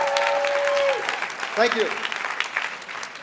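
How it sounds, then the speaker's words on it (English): Applause from a conference audience rises under a brief spoken thanks and a short musical tone, then continues as a steady clatter of clapping. "so give yourself a round of applause"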